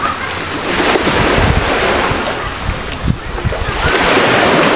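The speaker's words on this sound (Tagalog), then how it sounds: "Napanghampas yung dagat." A continuous roar of sea surf with waves breaking, heavily buffeted by wind rumbling across the microphone.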